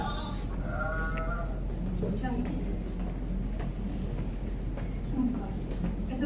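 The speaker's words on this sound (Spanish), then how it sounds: "Ese es el sonido de las ovejas" Sheep bleat in a few short wavering calls near the start, played over a loudspeaker beneath a constant low hum and faint background chatter.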